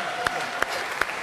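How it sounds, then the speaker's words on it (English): Lecture-hall audience at a CS50 class applauding, with three distinct claps standing out over a continuous, moderate wash of clapping in a brief burst. "a round of applause"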